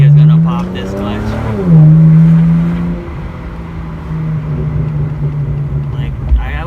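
BMW E90 335i with a muffler delete: a deep, loud exhaust drone that swells as the engine revs and then falls away, with crackling pops on the overrun.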